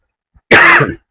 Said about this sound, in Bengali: আমার কয়েকদিন ধরে ঠান্ডা লাগছে, তো যার কারণে কাশিটা হচ্ছে বারবার